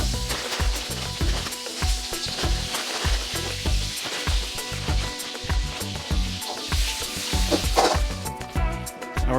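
Star anise and about ten pieces of dried orange peel sizzle loudly in hot oil in a wok, a dense steady crackle with occasional clinks and stirring scrapes running throughout, with no talking.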